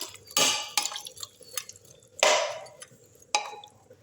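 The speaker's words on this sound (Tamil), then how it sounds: "நல்லா கலக்கி விட்டுடலாம்." A ladle stirs chicken curry with added water in a pressure-cooker pot, giving several distinct scraping, sloshing strokes against the metal with short quiet gaps, close and moderately loud, no voices.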